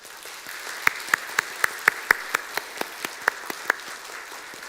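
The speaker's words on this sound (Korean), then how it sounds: "인사할 때 우리 다 같이 격려의 박수를 드리겠습니다" Church congregation at a Sunday service clapping in encouragement as a newlywed couple bows, a steady patter of many hands with a few sharp, close claps standing out in a regular rhythm, no voices.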